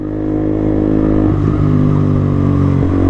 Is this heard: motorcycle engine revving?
yes